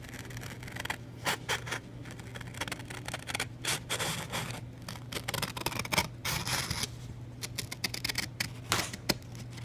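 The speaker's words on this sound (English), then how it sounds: "And cut along the line. Try to stay along the line," Scissors cutting along a drawn line on paper strips for a homemade Polaroid-style craft, close, irregular snips and crisp slicing bursts in uneven rhythm over a steady low hum.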